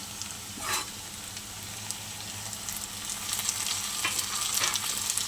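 Tomatoes tipped into a pan of onions fried light brown, giving a steady close sizzle and crackle of frying, with a couple of brief stirring scrapes rising and getting a little busier toward the end.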